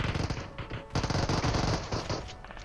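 Rapid automatic gunshots in the mobile battle royale game PUBG Mobile come in loud, close bursts with a short gap between volleys.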